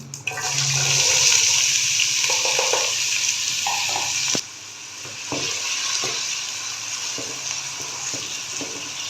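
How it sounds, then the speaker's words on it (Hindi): Potatoes dropped into hot oil in a pan sizzle and fry loudly at first, then settle into a steadier, quieter crackle with occasional clinks and stirring knocks; no voices. "ऑयल गर्म हो चुका है, ये गए आलू इसमें।"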